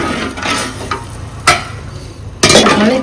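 Kadhi tempering is stirred in hot oil, a low steady sizzle punctuated by a few sharp scrapes and clinks of a spoon against the pot.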